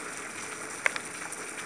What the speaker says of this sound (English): if y'all hear that noise, it's raining, pouring down